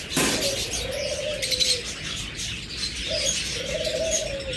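A pair of dark ino and opaline pet birds give a few drawn-out whistling calls and chirps, close and fairly clear, over a noisy background.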